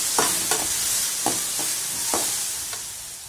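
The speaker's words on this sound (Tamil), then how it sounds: "கத்திரிக்காயை நல்லா வதங்கணும்" Brinjal and turkey berries sauté in oil in a pan: a steady, close sizzling hiss runs throughout, broken by about six sharp scraping strokes of a spoon stirring at an uneven rhythm.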